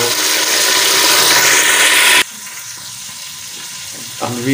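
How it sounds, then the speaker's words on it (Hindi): Chopped tomatoes fry in oil in a pan, a loud dense sizzle that drops sharply when the lid goes on, leaving a muffled hiss and a brief clink near the end. "ताकि ऑयल के अंदर जो टमाटर अच्छी तरह फ्राई हो जाए"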